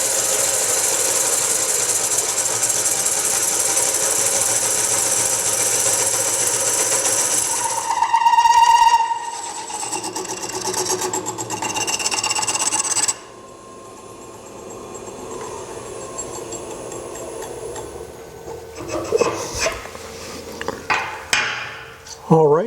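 A woodturning lathe drives a coring tool into a wood bowl blank, giving a loud, steady grinding cut for about eight seconds. Rougher scraping and rattling follow, then a quieter stretch with scattered knocks and clatter near the end.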